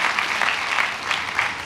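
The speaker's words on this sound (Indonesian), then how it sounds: "Tepuk tangan yang meriah bagi Tuhan Yesus." A crowd claps enthusiastically, a dense steady patter of many hands applauding with no voices over it.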